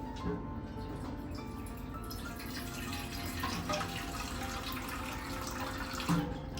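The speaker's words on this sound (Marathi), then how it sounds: "आता मी ह्याच्यात पाणी घालते" Water runs steadily into a pot of pav bhaji for several seconds, a continuous splashing pour with faint clinks, close and fairly soft.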